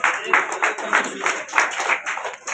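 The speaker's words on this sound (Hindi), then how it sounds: "तालियां बजाने में गुंजाइश ना रखें।" Audience at a Hindi public ceremony claps in a quick, uneven rhythm, a close, moderately loud burst of hand claps lasting a couple of seconds.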